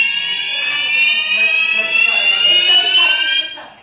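A building fire alarm sounds continuously, a loud steady electronic tone with bright harmonics close by that cuts off near the end.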